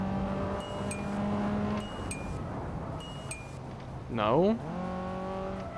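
Video game car braking hard into a corner, engine tones dropping and a sharp rising whine from the brakes, with steady road noise and a voice talking over it.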